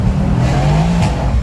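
Mercedes C63 AMG S V8 engine pulling hard in sport plus mode, a loud continuous rising engine note with a brief tyre squeal as the rear slides out, close and with no talk.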